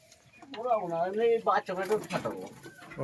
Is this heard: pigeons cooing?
yes